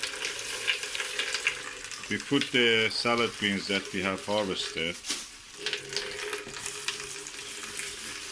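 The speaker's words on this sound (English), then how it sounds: "We try to fill it with to this level with some water." Water runs from a tap into a basin for washing harvested salad greens, a steady splashing rush heard beneath a person speaking close by.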